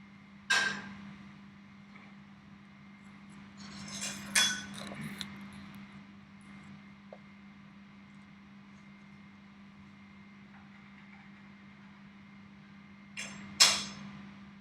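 A knife cuts through food on a board in three sharp, separate knocks spread over several quiet seconds, close by, with no talking.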